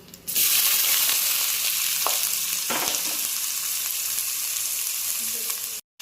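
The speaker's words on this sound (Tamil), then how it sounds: "கட் பண்ணி வச்சுருந்த வெங்காயத்தை சேர்த்துக்கலாம்." Chopped onions hit hot oil in a pan while cooking chicken curry, a loud steady sizzle that sets in almost at once and holds continuously, with faint stirring scrapes and a brief cut near the end.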